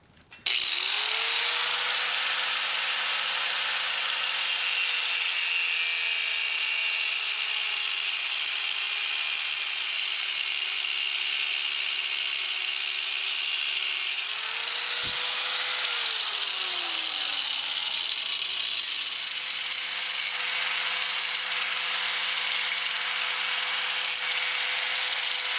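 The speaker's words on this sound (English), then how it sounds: "I'm gonna cut this bolt a little bit where these threads are damaged down here on the end" A power tool whines steadily as it cuts through a damaged bolt on a lawn mower, a loud continuous buzzing drone whose pitch dips and shifts partway through the cut, with no talking.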